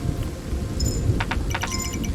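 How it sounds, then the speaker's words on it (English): A thunderstorm in Kingdom Two Crowns in the Norselands, with steady rain hiss and low rumbling, punctuated by a few brief crackling bursts. "Looks like we have a storm on our hands."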